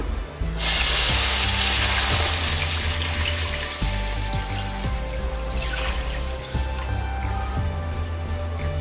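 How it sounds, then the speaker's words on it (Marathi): A loud rush of milk pouring into a hot pan of fried dry fruits, bursting into a hissing sizzle that slowly settles, over a low steady hum. "आता यात आता दूध घालूया"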